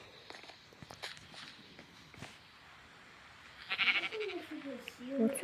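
Sheep bleating in a Minecraft game, a few short wavering bleats rising near the end over soft footstep sounds and faint background noise.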